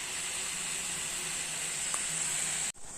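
Large fish roe fries in a pan with a steady, loud sizzle and hiss, cut off abruptly near the end.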